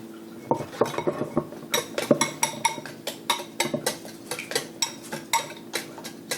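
Squeezed chopped frozen spinach is broken up in a bowl, a quick series of clinking, scraping utensil strikes against the dish in uneven rhythm, close and clear with no talk.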